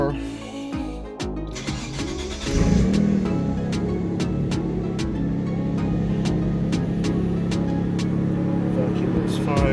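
A 1995 Mitsubishi 3000GT VR-4 engine with a catless exhaust cranks with a few rough turns, catches, and settles into a steady, close idle with a faint ticking rhythm.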